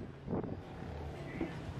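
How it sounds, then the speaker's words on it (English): Gusty outdoor wind buffets the microphone in low rumbling bursts, loud and close, with a brief voice in the background. "Oh, it's windy."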